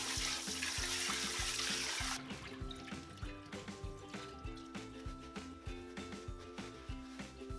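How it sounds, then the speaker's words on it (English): Tap water runs loudly over pork belly in a sink for about two seconds, then cuts off, leaving soft rhythmic background music. "and rinse the pork belly"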